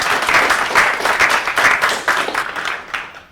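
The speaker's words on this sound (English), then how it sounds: "let's all give Adam a round of applause" Audience applause after a talk on lean and agile methods, a brief burst of moderately loud clapping that swells and then gradually thins and fades out.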